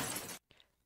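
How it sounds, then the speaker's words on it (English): Glass smashing sound effect from a Roblox robbery system: a loud, bright shatter burst lasting under half a second, then a brief pause and a faint tinkling of falling fragments. "this is the smash glass"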